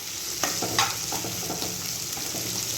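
Green capsicum frying in a pan with a steady, close sizzle, interrupted by a few sharp stirring scrapes from a spatula.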